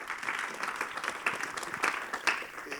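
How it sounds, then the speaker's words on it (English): Round of applause for the speakers at a peace talks event in London, many hands clapping in a dense, even wash from a crowded hall, moderately loud with a few sharper claps rising above. "I want you to thank our speakers as well, if you can give them a round of applause."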